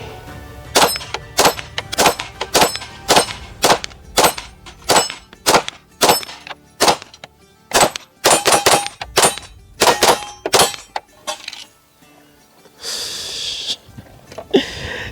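An Atlas Gunworks Erebus pistol fires a full magazine: sharp, loud, close gunshots in a steady rapid string of about twenty reports, then a brief hiss and rustle after the last shot.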